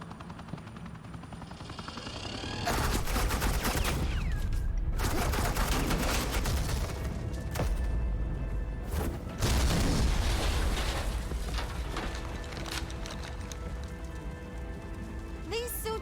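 Sustained suppressing gunfire from the Batman: The Enemy Within game, a dense rattling fusillade that starts abruptly and roars loudly for most of the stretch, with helicopter-like rumble and brief gaps between bursts.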